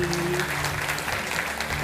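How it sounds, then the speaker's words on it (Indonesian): An audience claps for an invited guest at a talk-show event, a dense, steady burst of applause filling the short moment at close range. "Tepuk tangan untuk Kak Oki Madasari."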